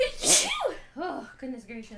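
A single loud, close sneeze bursts out at the start, followed by people talking and reacting over it.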